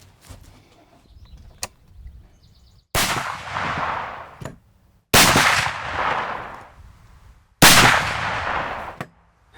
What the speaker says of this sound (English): All right, let's shoot a 3-shot group.